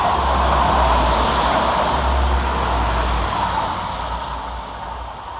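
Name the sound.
trains 172211 and 172212 passing Tyseley railway station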